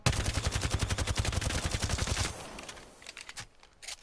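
Rapid burst of automatic gunfire from a low-recoil video game weapon, a fast, even string of sharp shots for about two seconds, then a few scattered pops and clicks at lower level.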